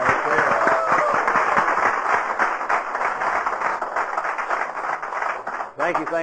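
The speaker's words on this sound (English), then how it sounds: "give John a big round of applause" Dense, loud audience applause at an Alcoholics Anonymous meeting, sustained throughout, a steady wash of many hands clapping at once, briefly dipping near the end.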